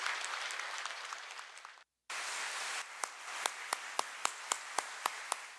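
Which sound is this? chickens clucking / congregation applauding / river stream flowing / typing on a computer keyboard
congregation applauding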